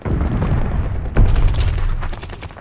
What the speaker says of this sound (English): Incoming stun grenade!